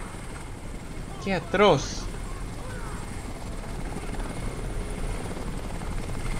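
A helicopter hovers in the Crysis video game as a steady low rotor drone running throughout, with someone briefly speaking over it partway through.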